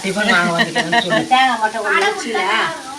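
Vada frying in hot oil at a home kitchen, a steady close sizzle and crackle running the whole time, with a person's voice talking over it.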